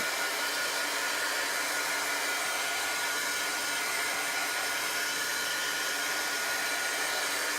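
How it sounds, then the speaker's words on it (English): Heat tool blowing hot air to dry chalk transfer paint, a loud, unbroken whooshing fan roar held at a constant level throughout. "So I'm going to hit this with the heat tool again because it's not quite dry."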